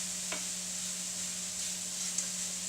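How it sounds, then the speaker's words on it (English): Vegetables being gently stirred in a frying pan for a frittata, a steady soft sizzle with a brief scrape of the utensil near the start, close and alone. "Give that a little mix. Just trying to be gentle because I don't want to break up the vegetables."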